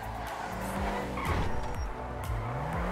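Drift car in a video game, with loud engine roar, repeated squealing and skidding tires, and shifting pitch sweeps as it slides through turns.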